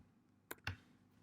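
Two quick clicks of a computer keyboard as a formula is typed, close and quiet, isolated against a hushed room.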